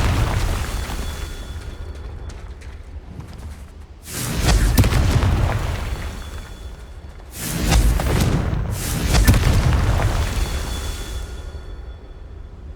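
A Confringo fire spell in Hogwarts Legacy bursts in three deep, rumbling booms, the first swelling after a quieter stretch and two more following close together, each fading slowly.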